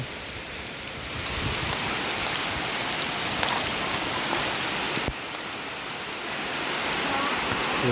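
Heavy rain pours onto surfaces during a storm, a dense, loud, continuous hiss of drops that swells slightly and holds steady throughout.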